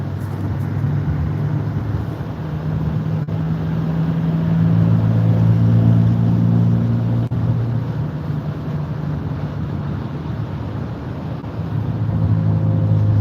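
A 2019 Duramax diesel dually truck drives with a loud, steady low engine hum that swells as it accelerates, with road and wind rush and no voices.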